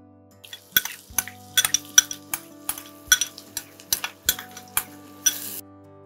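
Onions stirred in a pan for tamarind chicken: a metal utensil clinks and scrapes against the pan in about a dozen sharp, irregular taps, close and distinct over a near-silent background, with no talk.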